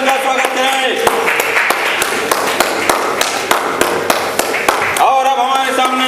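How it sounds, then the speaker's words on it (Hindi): A crowd at a Hindi stage drama performance claps in a steady sustained round to welcome Kripa Shankar Srivastava, individual sharp claps standing out near and loud, with voices and a musical tone underneath. "तो जोरदार तालियों से उनका स्वागत करें।"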